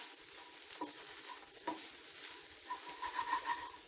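Ivy gourd, peanut and grated coconut thoran stirred in a pan, a soft steady sizzle with faint scraping strokes and light clinks, quiet and close.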